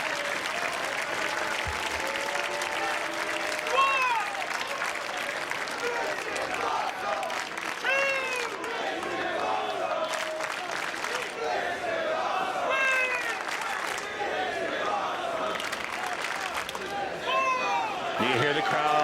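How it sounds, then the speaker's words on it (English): A professional wrestling arena crowd at a Ring of Honor television event cheers and applauds loudly and continuously, with shouts rising through the roar while a commentator talks over it. "You hear the crowd."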